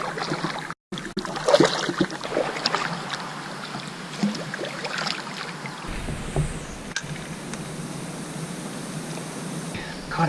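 A kayak is paddled on open water, with steady splashing and dripping strokes close by, accompanied by a constant wash of background noise.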